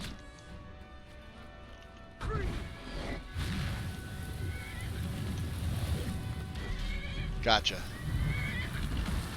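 In a fantasy video game, a horse gives a shrill whinny partway through amid rumbling combat noise, while a player talks briefly.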